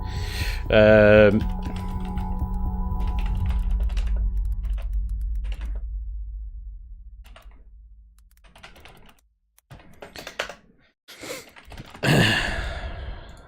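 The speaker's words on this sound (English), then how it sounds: "Sorry, typing." Fast clicking on a computer keyboard comes in bursts of keystrokes, close and crisp, mixed with sighs and heavy breathing, following a short wavering tone at the start.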